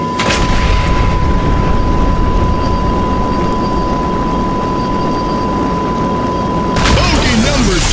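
A missile strike on an enemy aircraft in the combat flight game 3D Velocity roars as a loud, sustained rumbling blast with a steady tone over it, ending in a fresh burst.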